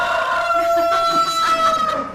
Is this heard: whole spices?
no